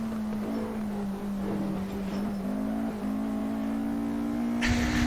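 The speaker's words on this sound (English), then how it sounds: "This is a fun car to drive." The engine of a Stirling Moss-tribute supercar drones steadily from inside the car, rising and shifting as it is driven and revved. It is loud and continuous, with no talk over it.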